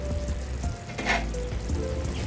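Ground pork menudillo sizzles steadily in a pan, a continuous close frying hiss with faint clinks and stirring scrapes, no voices.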